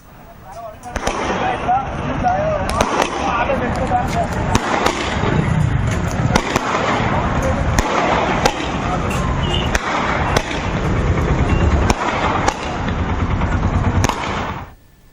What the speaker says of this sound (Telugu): మార్కెట్ సెంటర్లో టపాసులు కాలుస్తూ ఆనందంతో నృత్యాలు చేశారు.